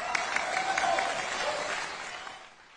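An audience applauds a speaker with steady, dense clapping that holds for a couple of seconds and then fades out.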